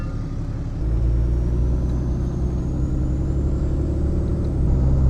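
A rebuilt, previously wrecked Ram 2500 Cummins diesel pickup truck drives off, its steady low diesel rumble swelling after the first second and holding loud and close throughout, with no talking.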